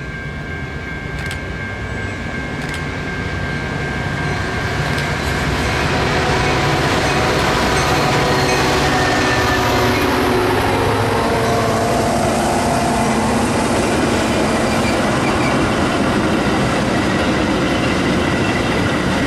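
A commuter train pulls into Arlington Heights station during the evening rush, a broad steady rumble of wheels and engine that builds and holds, with a few thin squeals and tonal whines riding above, no voices.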